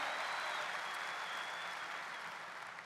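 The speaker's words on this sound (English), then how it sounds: "round of applause, this is amazing." An audience of almost 14,000 people fills a stadium with steady, broad applause, a dense and even wash of clapping that holds throughout and fades only slightly toward the end.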